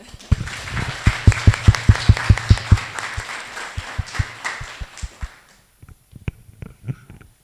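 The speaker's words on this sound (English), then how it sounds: "And I would like to make a big round of applause for the organizers as well." A small audience at an academy event claps for the organizers, distinct sharp individual claps that start brisk and fairly close, then thin out into scattered claps before fading.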